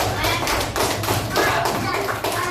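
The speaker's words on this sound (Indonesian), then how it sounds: "Tepuk tangan buat Faizan." Classroom of schoolchildren clapping for a student, a dense, steady burst of many hands close by, with a few thumps mixed in.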